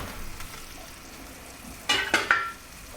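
Butter going into a pan and being stirred for a toffee sauce: a quiet background hiss, then three short bursts of sizzling and scraping close by near the end.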